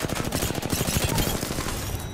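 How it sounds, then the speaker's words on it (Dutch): An airstrike barrage in Apex Legends: a dense, continuous roll of rapid blasts and crackling gunfire, loud and close, sustained throughout with no pause. "Airstrike."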